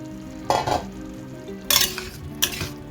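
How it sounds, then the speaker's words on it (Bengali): Vegetables being stirred through a red Kashmiri chilli masala in a pan, three bursts of scraping and clinking of a spoon against metal over a faint sizzle, close and with no speech. "আবার একটু নাড়াচাড়া করে নিচ্ছি"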